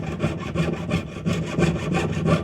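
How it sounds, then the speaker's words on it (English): A jeweler's saw cuts through a stack of metal jump rings, steady back-and-forth rasping strokes at an even rhythm, close and clear with no talking. "I have the saw blade at a slight tilt, but I certainly want to make sure I'm not sawing through the back of these jump rings"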